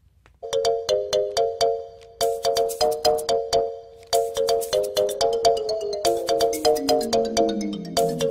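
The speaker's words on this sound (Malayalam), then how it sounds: "നിന്റെ ഫോൺ ബെല്ലടിച്ചു" A mobile phone ringtone plays loud and clear, a bright repeating chime melody that stops briefly, restarts, then slides through a descending run of notes.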